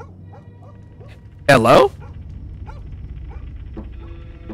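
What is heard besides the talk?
dog barking in Fears to Fathom video game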